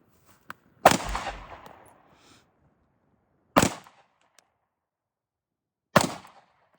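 Three loud CZ P10C Ported pistol shots at a range, irregularly spaced over several seconds, each a sharp crack with the first ringing out in a longer echo; no talking.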